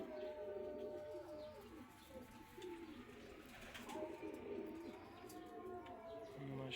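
Red-tinged show pigeons of the Mia Nazir and Ch Sakhi lines coo softly in a loft. A steady low murmur of cooing runs throughout, with faint background voices and scattered clicks.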